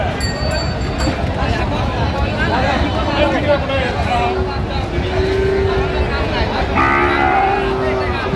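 Sahiwal bull calves at a crowded Comilla cattle market low repeatedly, the moos rising over a steady hubbub of voices and market noise while people talk nearby.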